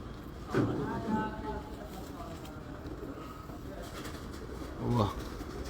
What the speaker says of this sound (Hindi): आज काशिफ भाई ने कबूतर भी आपको बेस्ट से बेस्ट दिखाए हैं।